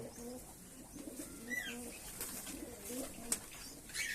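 Pigeons coo repeatedly in low, rolling phrases, several birds overlapping close by at a moderate level, with a few brief chirps and light rustling mixed in.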